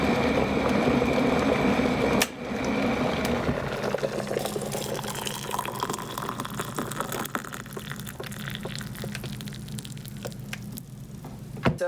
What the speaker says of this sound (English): So the tea is poured